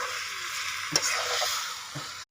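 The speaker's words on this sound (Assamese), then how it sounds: "মা মছলাখিনি সিজাৰ পিছতে মাংসখিনি আমি এড কৰি দিলোঁ।" Duck meat with spices frying in a wok, a continuous close sizzle broken by two brief clanks of a spatula stirring the pieces.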